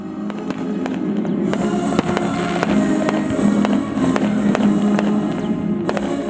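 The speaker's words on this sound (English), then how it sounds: "The evening closed out with a brilliant firework display sponsored by the Anaheim Ducks." Fireworks display at an evening outdoor event crackles and booms continuously, with repeated sharp bursts over a dense rumbling wash of explosions, loud and close.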